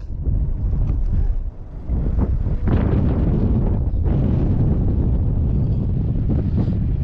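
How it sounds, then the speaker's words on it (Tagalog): Strong, gusting wind roars and buffets loudly across the whole stretch while kayak fishing at sea in Qatar, a constant rumbling rush with no other clear sounds. "Lakas pa ng hangin."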